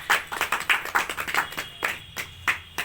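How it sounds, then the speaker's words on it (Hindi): An audience claps to welcome a guest, with brisk, fairly close hand claps in a loose rhythm from a small crowd, without talk. "म इनवाइट करेंगे राजकुमार जी को, और ऐसे नहीं, थोड़ा सा ताली की स्वागत करेंगे।"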